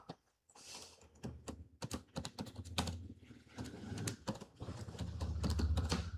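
A name is typed on a computer keyboard as irregular bursts of quiet, close key clicks, some quick runs and some pauses, over a faint hum.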